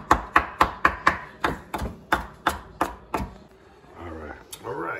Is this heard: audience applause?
no